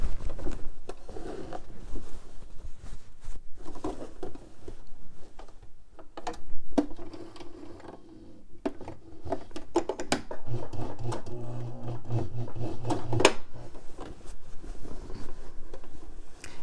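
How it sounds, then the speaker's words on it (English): A sewing machine runs steady top stitching along the waist of a pair of pants, a continuous mechanical whir with small clicks and shifts in pace, heard up close without any voice. "I'm going to do the top stitching here"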